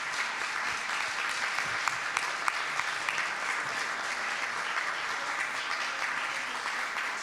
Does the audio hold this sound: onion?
no